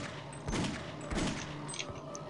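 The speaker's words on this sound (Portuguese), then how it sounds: "Eu uso a Magnum pra matar esse bicho chato ali" Two loud Magnum revolver shots in Half-Life: Opposing Force sound about half a second apart, each a sharp booming blast with a short decay, over a steady game ambience hum.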